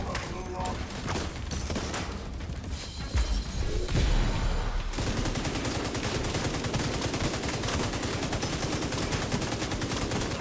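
Gunfire in The Division 2 video game: steady rapid automatic fire sustained throughout, with heavier impacts and crashes in the first half and a voice talking over it.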